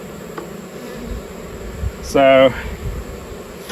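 Honey bees buzz as a steady, dense hum throughout a late-summer swarm transfer, with a brief voice cutting in near the middle.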